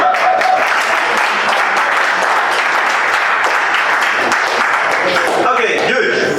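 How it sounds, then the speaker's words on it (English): Sustained applause from an audience at a national debate championship in Togo, dense and loud throughout with no gaps, clapping holding steady before thinning slightly near the end. "At least can you clap? Can you clap?"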